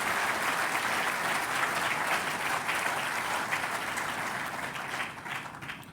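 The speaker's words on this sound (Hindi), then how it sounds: "एक बार जोरदार तालियां सभी शिक्षण संस्थानों के लिए।" Sustained applause from a large audience at an education summit: dense, steady clapping that holds loud for several seconds and tapers slightly at the end.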